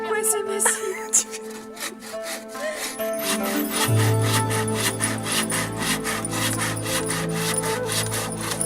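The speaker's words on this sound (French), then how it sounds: "Tu me fais coincer ma scie." A hand saw cuts through wood in steady, rapid back-and-forth strokes, close and fairly loud, with faint metallic jingles in the background.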